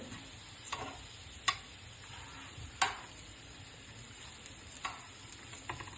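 Yam (senai) varuval shallow frying in a pan, a soft steady sizzle with occasional sharp clicks and scrapes of a spatula stirring the pieces; close and fairly quiet, no talking.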